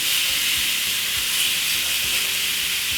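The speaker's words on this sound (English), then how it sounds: "So we're gonna grill it like this." Jamaican-style pork steaks, already oiled, sear on a very hot grill with a loud, continuous hiss and sizzle close by, steady throughout, with no voices.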